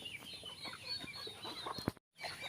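Local free-range hens cluck in short, scattered bursts close by over a busy farmyard background, with a brief total silence near the end.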